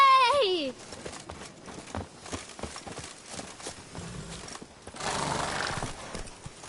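Roach, the horse in The Witcher 3, trotting with a neigh at the start, then a quick run of hoofbeats under ambient game sound, with a louder rush of noise near the end and some voices.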